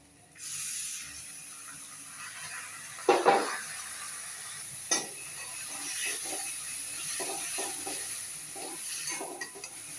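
Ground onion paste sautéing in a pan for chicken gravy, a steady close sizzle with a few sharp scraping stirs of the spoon against the pan and no talking.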